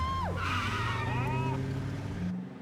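A borrowed car driven fast and recklessly, tires squealing loudly with a sharp pitch sweep and a roaring engine for about two seconds before it eases off, while people whoop and shout over it.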